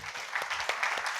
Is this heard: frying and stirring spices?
no